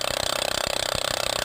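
A hammer drill with a core bit bores into a concrete curb, giving a steady rapid pulsing rattle with a high whining grind, close and continuous.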